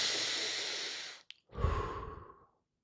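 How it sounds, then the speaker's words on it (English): Slow, deep breath during a guided meditation, a long soft airy inhale followed after a brief pause by a fuller exhale, close and quiet with no talking. "breathe deeply"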